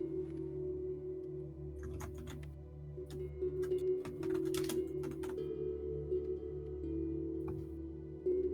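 Clusters of quick clicky keystrokes from a computer keyboard, coming in bursts with short pauses, over a continuous low electrical hum.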